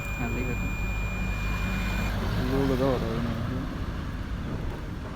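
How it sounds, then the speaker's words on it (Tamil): A tester gives a continuous high-pitched beep while checking the body of a 7.5 HP Texmo borewell motor for a short. The steady tone lasts about two seconds over outdoor background noise, then cuts off. "உங்களுக்கே தெரியும் பீப் சவுண்டு வரும் பாருங்கள்"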